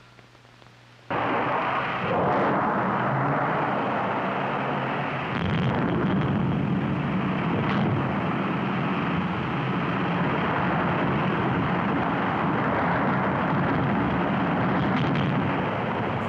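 After a moment of quiet, the Ripple Rock underwater rock blast erupts into a sustained, thundering roar that rumbles on without letup for many seconds.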